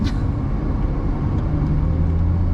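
A manual learner car pulls away as the clutch is eased out and the throttle applied, giving a steady, close, low engine rumble with no talk over it.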